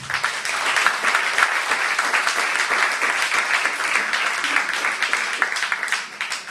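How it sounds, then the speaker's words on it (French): Sustained audience applause at a political programme presentation, a dense, steady wash of many hands clapping throughout, fairly loud and continuous with no speech over it. "on peut les applaudir."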